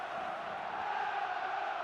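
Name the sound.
crowd cheering wildly, likely from a video game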